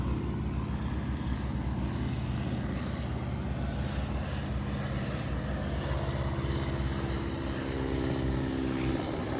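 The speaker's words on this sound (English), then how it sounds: "Oh, there's One taking off and one flying the runway heading." Stearman biplane taking off at a fly-in, its radial propeller engine producing a steady, loud droning roar with harmonic growl that holds throughout, fairly near and without speech.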